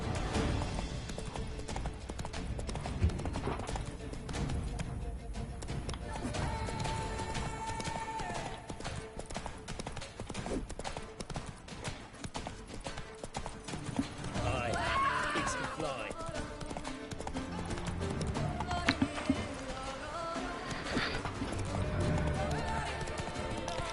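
A horse galloping in the video game The Witcher 3 on PS5, with steady rhythmic hoofbeats running throughout under game music and intermittent speech.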